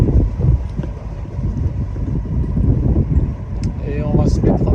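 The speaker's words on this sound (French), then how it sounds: "Avec le vent qui se lève, force 4." Gusty wind roars steadily across a sailboat entering Çiftlik bay in Turkey, a force 4 breeze rising, with broadband buffeting throughout and brief voices near the end.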